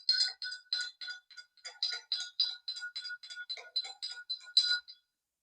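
A spoon stirring lemon into a jaggery sharbat in a glass, producing a quick, regular run of bright clinks, about twenty in five seconds, that then stops.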